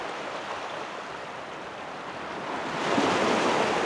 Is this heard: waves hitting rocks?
yes